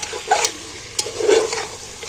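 Mutton curry being stirred in a pan, with a few scraping strokes of a spoon against the metal over a soft background sizzle, close and fairly quiet.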